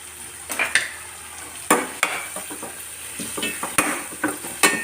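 Potatoes sautéing in oil with chilli powder for a wedding-style potato masala, an up-close sizzle punctuated by frequent sharp clanks and scrapes of a ladle against the pan, no speech.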